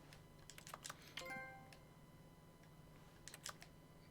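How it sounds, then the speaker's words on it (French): Faint keyboard typing inside The Stanley Parable Ultra Deluxe game: a few soft scattered key clicks against a quiet background hum, with a brief chime-like tone in the middle. "Ah, ça fait un bruit de clavier."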